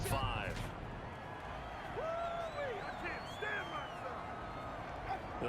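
Stadium crowd noise in Madden 21 at a Los Angeles Rams home game, a dense roar with whoops and whistles rising above it, faint overall, under a commentator's voice.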